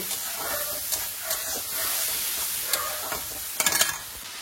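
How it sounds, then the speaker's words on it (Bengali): Spice paste poured into a hot pan and sautéed, a loud steady sizzle and hiss with stirring strokes and a brief flurry of crackles near the end. "এই যে গুলে রাখা মশলাটা ছিল সেটা ঢেলে দিলাম, দিয়ে অল্প একটুখানি কষিয়ে"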